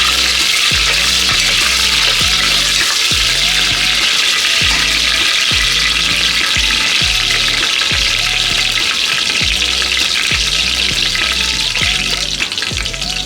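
Cashews frying in ghee over medium heat for ghee rice make a loud, steady broadband sizzle with regular low rhythmic thumps underneath throughout, no voices.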